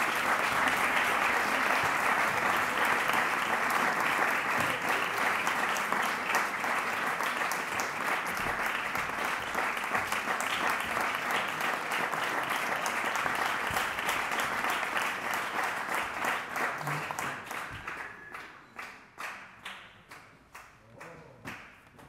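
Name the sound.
applause welcoming a harpist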